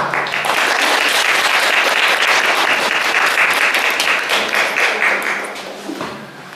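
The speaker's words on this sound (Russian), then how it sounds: "Судя по вашим аплодисментам" Loud, sustained applause from an audience at a medal award ceremony for cultural figures, dense clapping filling the room before tapering off near the end.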